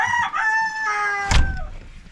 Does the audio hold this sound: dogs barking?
no